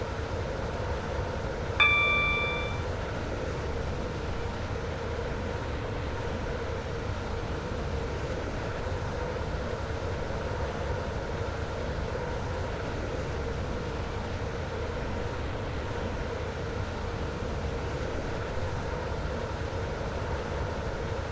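Metro train running in the Stepford County Railway video game, a steady continuous rumble throughout with a brief chime near the start and no talking.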